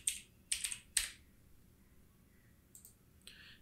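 Keys on a computer keyboard clatter in a few quick bursts, a cluster of clicks at the start and a couple of lighter taps near the end, close but fairly quiet in a still room.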